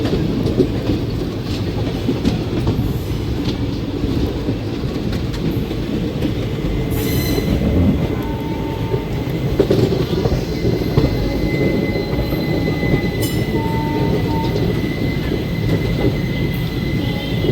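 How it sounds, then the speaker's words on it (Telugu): The Tirupati–Charlapalli special express train rolls past, a continuous loud rumble of wheels on track with rhythmic clatter and occasional thin metallic squeals. "Tirupati Cherlapalli special train."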